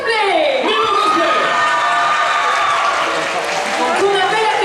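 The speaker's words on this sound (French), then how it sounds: "un tonnerre d'applaudissements pour notre première participante, Mimo Cosplay" A crowd applauds and cheers for the first contestant in a cosplay roleplay contest at a convention, steady and loud throughout, with whoops and shouts rising over the clapping and a host's voice carrying above it.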